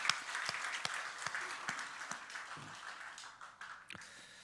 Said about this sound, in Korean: 우리 격려의 박수 한번 드리도록 합시다